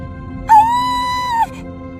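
A woman's single drawn-out scream, used as a sound effect in a Hindi story, rings loud and steady for about a second over a low background bed, then cuts off.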